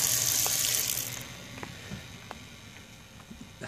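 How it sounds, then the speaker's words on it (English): Water rushes through the pipes of a rainwater tank system as it switches to drawing from the mains supply. A loud flow at first fades to a softer trickle, with faint scattered clicks and taps. "So it's pulling the water in from the mains and no longer pulling it in from the tank"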